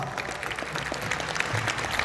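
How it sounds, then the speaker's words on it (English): An audience gives a brief round of applause, a moderately loud spatter of many hands clapping at once, steady throughout with no voice over it. "let's give them a round of applause"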